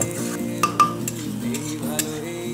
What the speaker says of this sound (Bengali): তারপর নাড়িয়ে চাড়িয়ে ভেজিটেবলসগুলোর সাথে ডিমটাও ভেজে নেব।